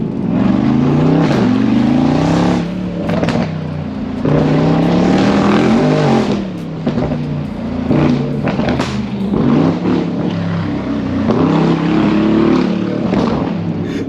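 A 920 hp Mercedes G-Class is revved repeatedly while standing still, each throttle blip swelling into a loud close roar and falling back, with crackling pops between revs.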